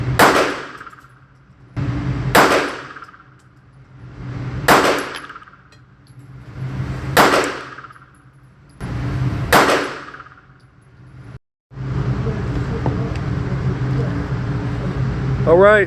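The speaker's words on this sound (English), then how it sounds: "on the top left we're going to be shooting the Bul Armory, and we're going to shoot 5 shots" Five loud pistol shots at a steady pace, a Bul Armory SAS2 Viper and a compensated Tanfoglio Stock 3 fired at close range, each a sharp crack with a short decaying tail, followed by a steady outdoor rumble.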